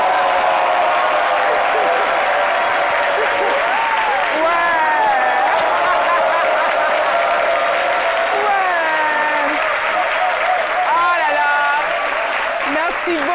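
Steady, loud applause from a French television studio audience, sustained clapping throughout with a few cheers and voices rising over it.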